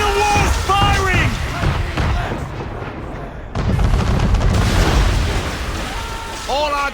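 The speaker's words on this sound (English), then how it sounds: "Man of war's firing!" Broadside cannon fire from a man-of-war warship at sea in Assassin's Creed 3 sounds as heavy rolling booms and rumbling blasts that run through the whole stretch, with voices calling out over the barrage.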